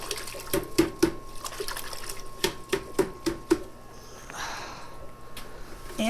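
Geranium bonsai roots being rinsed in water, with a series of sharp splashing and dripping knocks followed by a softer running-water wash.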